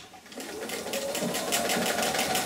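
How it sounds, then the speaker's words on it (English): A sewing machine stitching a quarter-inch quilt seam, its rapid needle rhythm starting softly and building to a steady, close, even whir. "you take it to your machine and you sew that seam again, just 1/4 inch."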